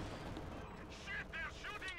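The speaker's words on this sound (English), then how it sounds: "Taking a barrage there at the stolen pack gun." Artillery barrage from Company of Heroes 2 on the Road to Kharkov map, a steady rumble of gunfire with several sharp, ringing shell bursts in quick succession over the last second.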